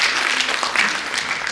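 An audience at an entrepreneurship talk applauds in a dense, continuous wash of many hands clapping, fairly loud and steady, with no voices over it.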